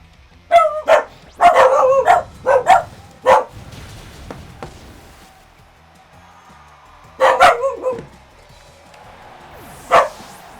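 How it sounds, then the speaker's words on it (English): Several dogs bark in bursts, with clusters of loud, close barks separated by quieter gaps and a final single bark, breaking into a quiet indoor recording. "Nothing worse than 3 dogs deciding to start barking in the middle"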